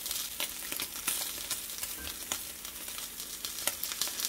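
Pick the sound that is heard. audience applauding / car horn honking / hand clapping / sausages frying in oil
sausages frying in oil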